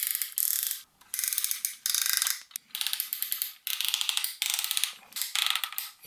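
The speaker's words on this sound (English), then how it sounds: "Listen to these ratchets too." Plastic ratchet joints of a Transformers action figure clicking as its limbs are moved, with rapid bursts of crisp ratcheting clicks separated by short pauses, close and alone.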